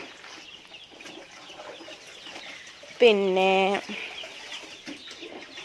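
Chickens murmur and cluck softly close by inside a poultry farm shed, broken midway by one loud, drawn-out squawk from a single bird; a voice speaks briefly.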